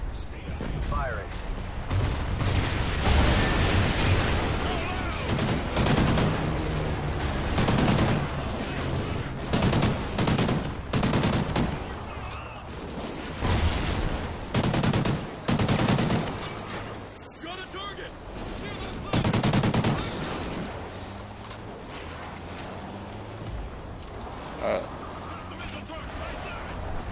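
Heavy gunfire and explosive blasts during the Call of Duty Ghosts campaign, with repeated bursts and booms over a loud battle soundtrack, and voices speaking among the shots.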